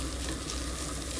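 Onions fry in a pan beside chicken gizzards, giving a steady dense sizzle that stays constant and fairly loud for a short moment with no talk.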